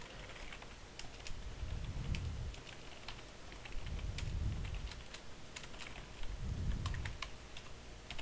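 Steady typing of code on a computer keyboard, quick light clicks running continuously through the clip at close range, with no talking.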